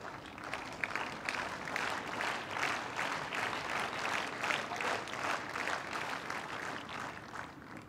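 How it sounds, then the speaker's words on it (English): Spectators at a women's professional tennis final in Prague applaud a winning passing shot, a lively even clapping from a stadium crowd heard at some distance, sustained throughout. "And Petra was the one leading the applause."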